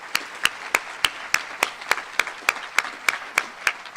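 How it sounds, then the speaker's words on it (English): Rhythmic clapping at an 8th grade promotion ceremony, sharp, evenly spaced claps about three per second, close and fairly loud with a soft crowd wash behind. "Please give another round of applause to these great folks."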